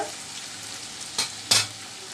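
Onion, ginger and garlic frying in a pan, a steady low sizzle with two short, louder scrapes or stirs near the end. No one speaks.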